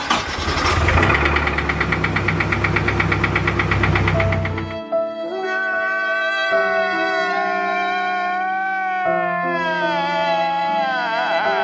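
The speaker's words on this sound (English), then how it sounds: "the car has rod knock" A car engine with rod knock runs loud and close, with a rapid rhythmic knocking for about five seconds before giving way to a steady tonal drone.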